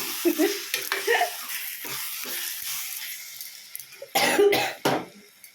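A couple of short, sharp coughs break through soft kitchen sizzling and stirring of a green chilli and tomato curry, with a louder burst near the end.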